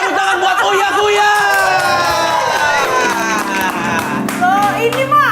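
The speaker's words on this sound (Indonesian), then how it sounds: "Tepuk tangan buat Uya Kuya." Studio audience claps and cheers for Uya Kuya on a podcast set, with whoops, chatter and voices talking loudly over the lively applause for the whole few seconds.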